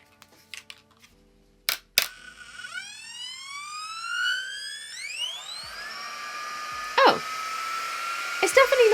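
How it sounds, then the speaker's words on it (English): A GHD 2-in-1 hot air styler switching on and spooling up, a rising whine like a spaceship that climbs in pitch and settles into a steady high hum, with a few sharp clicks and beeps. "you just slide up this to turn it on, and then you wait for it to start sounding like a spaceship"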